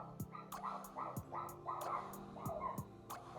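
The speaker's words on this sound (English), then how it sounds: "My dog is barking, guys." A fluffy pet dog barks several times in a steady, fairly close series of short yips and bow-wows indoors, each bark sharp and distinct over a low background hum.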